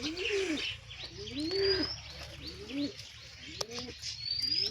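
Pigeons kept at home coo in a steady series of soft, rolling low calls, repeating about once a second at close range, with faint higher chirps from other birds behind.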